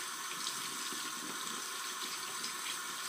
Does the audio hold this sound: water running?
yes